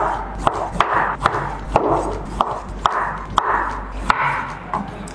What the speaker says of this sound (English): now that we have our 3 slices of yam, we're going to cut off the skin